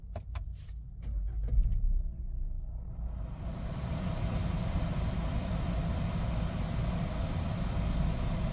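A GWM Tank 300 with the 2.0L engine driving on the road: a few faint clicks first, then a steady, broad rumble of engine and road noise that holds at an even level throughout.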